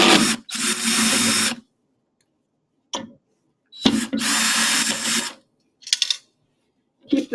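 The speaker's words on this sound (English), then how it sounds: "you're going to take out these 4 screws" A power screwdriver removing four screws from an appliance unit, giving loud whirring bursts of about a second each, separated by silences and a few short clicks and taps.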